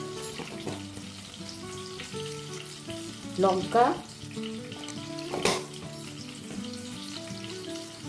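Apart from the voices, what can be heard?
tomato frying in a pan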